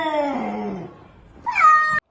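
A cat gives two close, loud meows, the first long and falling in pitch, the second rising and more insistent after a brief pause.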